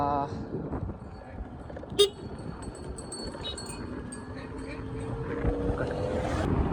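A single short electric horn beep from a new Chetak electric scooter sounds once amid steady road and wind noise, fairly quiet against the rumble.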